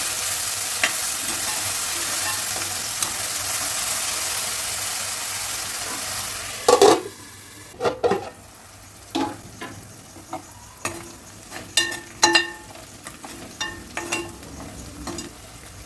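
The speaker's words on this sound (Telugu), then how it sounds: "కొంచెం ఉల్లిపాయలు తొందరగా వేగిపోయి కొంచెం బ్రౌన్ కలర్ కూడా రావడానికి కూడా బాగుంటుంది" Sliced onions with salt sizzle steadily in a hot pan for an egg pulusu curry, a loud continuous fry that quiets midway, then gives way to sharp intermittent scrapes and clinks of stirring.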